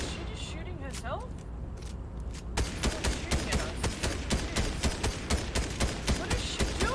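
Rapid gunfire in the video game Disco Elysium, a long run of sharp, evenly spaced shots that starts partway through and keeps going, with a voice talking over it.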